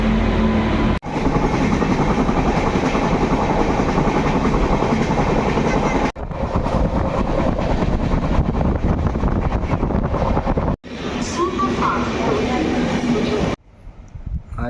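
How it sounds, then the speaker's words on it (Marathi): The Kutch Express arrives at a station, a loud continuous rumble and roar of the passing train with heavy wind buffeting on the microphone, cut into several segments, and voices partly underneath. "फायनली ट्रेन हॅज अराइव्ड आणि वाजल्यात 6:15. कच एक्सप्रेस आलेली आहे."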